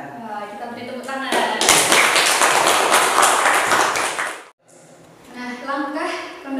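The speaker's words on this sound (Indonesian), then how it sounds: "kita beri tepuk tangan" Students in a classroom break into a burst of clapping for a classmate, dense and steady for about three seconds before stopping abruptly; a teacher's voice talks before and after the applause.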